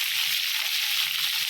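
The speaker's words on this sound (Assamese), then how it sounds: "ভালদৰে ভাজি লওঁ।" Fish frying in hot mustard oil, a steady bright sizzle holding evenly throughout, close and fairly loud, with no voices.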